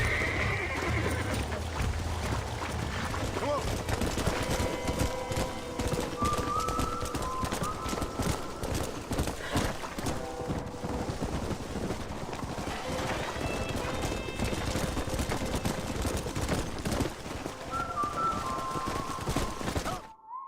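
Horses in the video game Red Dead Redemption clip-clop steadily with running hooves throughout, with neighs and whinnies breaking through and scattered gunfire-like bursts mixed in.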